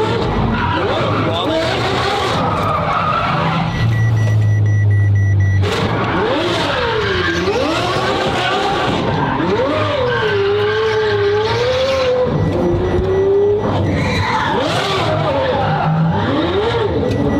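A Ferrari drifting on the handbrake, tires skidding and squealing in long wavering howls over a loud revving engine, with a voice talking over it.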